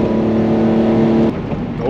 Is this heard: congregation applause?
no